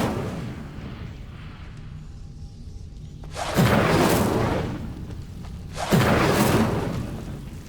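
Twin fiery bursts from the Incendio spell in Hogwarts Legacy, each a loud whooshing roar of flame flaring up and fading, spaced a couple of seconds apart over a low ambient hum.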